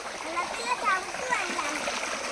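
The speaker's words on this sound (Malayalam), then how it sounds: "വെള്ളത്തിൽ ചവിട്ടുന്നുണ്ട്" A child steps and splashes through shallow muddy rainwater outdoors in a village, with steady watery sloshing and trickling running throughout and voices talking over it.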